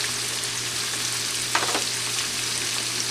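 Shrimp and rice fry in a pan with a loud, continuous sizzle and a brief crackling flare partway through.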